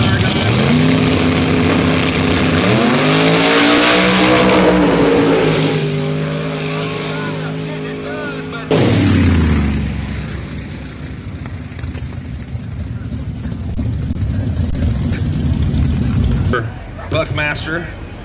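A drag race car roars down the track in a loud, sustained engine rush that swells and falls away before a second surge of roaring. A commentator talks over it the whole time.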